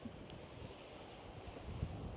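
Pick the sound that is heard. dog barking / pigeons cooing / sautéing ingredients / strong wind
strong wind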